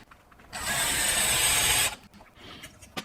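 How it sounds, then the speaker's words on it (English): A power drill bores through metal into a wooden hammer form and drives a screw, one steady high-pitched burst of about a second and a half, close and loud, with quieter handling clicks after. "I'm going to drill a hole through this and drive a screw into the wooden hammer form"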